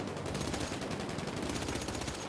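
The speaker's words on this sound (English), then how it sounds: "All right, everybody shoot each other." Rapid automatic gunfire from players shooting each other in GTA 5 rattles continuously in dense, loud bursts with no pauses and no talking.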